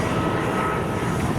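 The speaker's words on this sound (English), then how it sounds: "oh, there's an airplane" A fixed-wing airplane passes overhead near LAX in Los Angeles, a steady low engine rumble filling the whole moment without a break.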